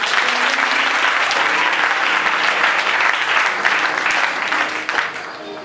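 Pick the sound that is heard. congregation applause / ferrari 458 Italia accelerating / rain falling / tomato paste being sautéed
congregation applause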